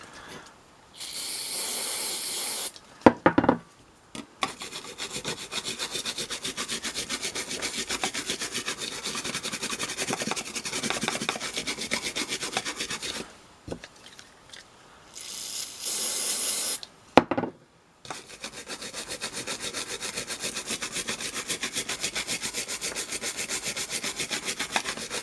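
Close, steady toothbrush scrubbing of flux off a microwave circuit board, continuous for long stretches, interrupted by a few short hissing bursts of flux remover spray.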